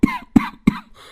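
A man coughs three times in quick succession, close and sharp, followed by a soft breath.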